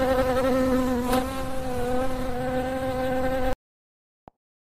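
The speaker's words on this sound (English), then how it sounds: "The bee." A bee buzzes with a continuous, steady droning hum for about three and a half seconds, close and alone, then cuts off into silence.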